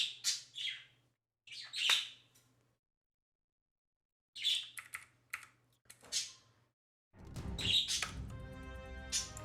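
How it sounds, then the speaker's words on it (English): Loud birds sing on a bright morning in short bursts of high chirps and tweets separated by pauses, with a low hum under some phrases and a thicker burst of sound near the end. "Oh my God, why are these birds so loud?"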